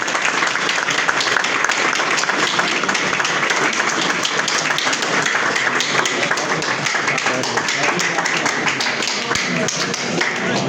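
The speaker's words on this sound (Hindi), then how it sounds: "तालियां बजाए भाई।" An audience claps continuously and briskly at a gathering with blind people, a dense steady patter of many hands filling the whole stretch at close range.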